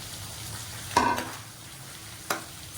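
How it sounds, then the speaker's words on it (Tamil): Chicken added to fried masala simmers with a faint, steady sizzle, while two distinct scraping stir strokes sound nearby about a second apart. "இப்போ இதில் வந்து சிக்கன் வந்து சேர்த்துடலாம்."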